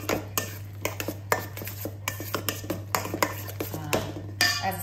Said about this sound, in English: just give that a good stir around